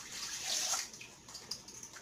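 Water pours briefly into a measuring cup in a home kitchen, a short splashing trickle that swells and then tapers into light drips, fairly quiet.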